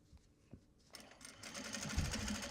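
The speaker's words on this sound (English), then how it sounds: "Now we're just top stitching everything across here." A sewing machine runs steadily, top stitching across Japanese fabric for a bag, starting with a few soft clicks before the motor builds to a continuous close whir.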